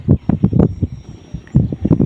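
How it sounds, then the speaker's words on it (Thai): Strong wind at a field where an electric-ducted-fan RC model jet, a JAS 39 Gripen with a 64mm fan, is flown, buffeting the microphone in loud, low rumbling gusts that rise and drop repeatedly. "ลมแรง"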